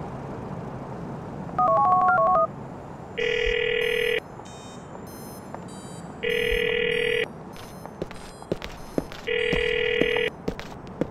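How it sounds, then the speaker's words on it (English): Phone call in Grand Theft Auto IV: a short burst of keypad dialing tones, then three evenly spaced electronic ring pulses, each lasting about a second, over a low game ambience. "You've got to call him and keep a lookout for someone answering a phone."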